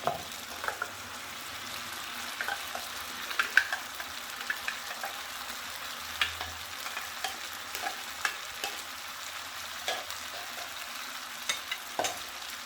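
Black pepper chicken with paste fries over a medium flame, a soft, steady sizzle punctuated by regular clinks and scrapes of a spoon stirring against the pan.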